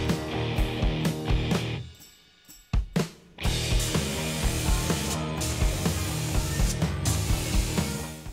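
Dodge Viper Red paint sprayed onto plastic ATV parts during a Honda ATC 110 three-wheeler restoration. Close hissing spray bursts come in repeated pulses, with a short pause midway.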